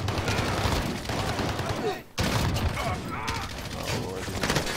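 Automatic M4A1 rifle fire from Call of Duty: Modern Warfare, a dense, sustained stream of shots with a brief gap midway, loud and close amid game noise.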